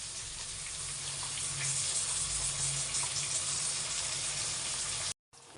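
Eggplant pieces fry with tomato paste in hot oil, giving a steady, close hiss and sizzle that holds evenly for about five seconds before cutting off abruptly near the end, with no voices.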